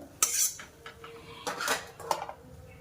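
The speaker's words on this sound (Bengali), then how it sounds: "এগুলো কতটা মুচমুচে হয়েছে সেটা আওয়াজ শুনেই বুঝতে পারছো, যখন তুলছি কতটা আওয়াজ হচ্ছে" Crispy fried lentil fritters (bora) being lifted out of a pan with a metal utensil, giving a few sharp clinks and scrapes in short bursts, fairly close and clear with no talking.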